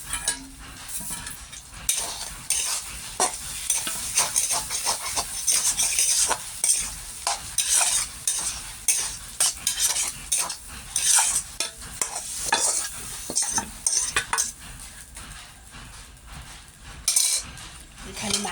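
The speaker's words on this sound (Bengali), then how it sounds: "মাছের তেলটা আমি রান্না করে নিয়েছি" Rohu fish fat cooking in hot oil in a pan, a close, busy sizzle broken by repeated scraping and clinking strokes of a spatula stirring against the metal.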